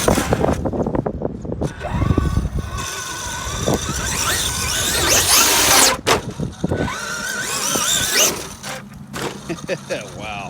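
Traxxas X-Maxx RC truck fitted with a GPM cush drive eliminator, its gears whining and motor revving in rising and falling bursts, loud and close, with voices talking over parts of it.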